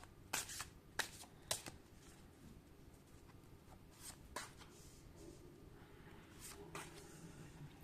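Tarot cards are shuffled for a reading in a few quick, riffling flicks at the start and then softer intermittent card slaps, close but quiet, with no one talking.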